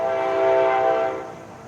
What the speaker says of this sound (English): And that's the train you're hearing going by.